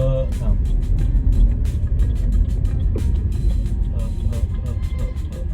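Slow, bumper-to-bumper road traffic surrounds a vehicle with a dense, continuous low rumble of engines and tyres and occasional light clicks and knocks. Voices murmur faintly underneath.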